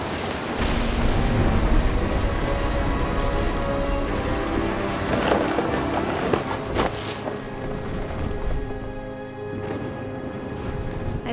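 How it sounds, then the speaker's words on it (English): Steady rain pattering on a tent in What Remains of Edith Finch, with a dense wash of drops, wind buffeting and a few sharp cracks; no distinct thunder rumble stands out. "The thunder sounded much too close and full of angry power."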